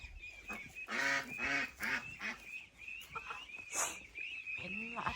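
Farm ducks kept for eggs honk and quack in a busy run of calls, fairly close and loud, with a voice talking over parts of it.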